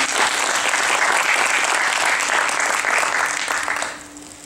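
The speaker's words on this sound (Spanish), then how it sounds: "un aplauso de nuevo para ella" Loud, dense audience applause at an art exhibition event in San Antonio, a thick continuous roar of clapping that holds steady and then fades away near the end.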